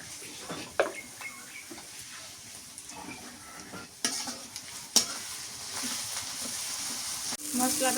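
Banana stem fries with salt and turmeric in a pan, a low continuous sizzle broken by spatula knocks and scrapes that grows louder near the end.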